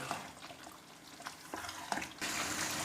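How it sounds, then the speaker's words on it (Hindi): Chicken malai handi with cream frying in a kadai, a soft sizzle with scattered stirring clicks that swells into a louder, steadier frying hiss toward the end. "अब क्रीम डाल के इसको 2-3 मिनट के लिए और भून लेंगे ताकि अच्छे से इसके ऊपर घी आ जाए।"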